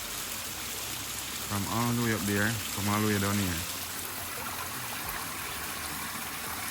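A waterfall pours steadily in a garden in Jamaica, a broad constant rush of falling water heard throughout, with someone speaking briefly over it in the middle.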